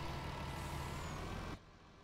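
A truck engine roars in Farming Simulator 19 as the vehicle labors up a steep slope, loud and constant before abruptly dropping to a quieter rumble.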